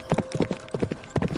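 A horse's hooves clip-clop in a sharp, rhythmic trot, loud and close in clusters of quick beats, used as a story sound effect.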